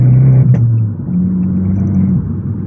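An Abarth hatchback accelerates in second gear out of a roundabout bend. The engine drones steadily up close and its pitch steps up as it pulls away, with no talk.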